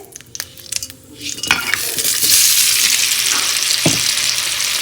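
Sweet potato rounds, salted, frying in a pan: a quiet start with a few clinks gives way after about two seconds to a steady, fairly loud sizzle that holds to the end, with one brief knock near the close.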